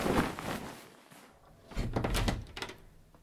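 Door being opened in a period audio drama: a few soft thunks and knocks of wood, quiet and close, with no talk over them.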